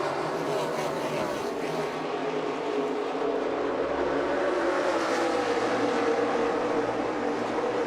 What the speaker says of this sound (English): Elliott and Earnhardt lead them to green to start the Great American Race